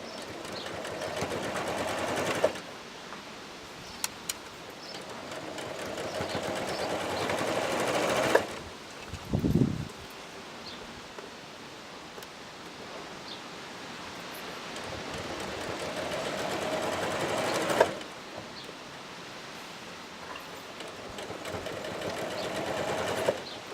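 Sewing machine running a regular straight stitch along skirt fabric, a steady close motor hum in long runs broken by brief stops and a short clunk, loud and alone with no talking.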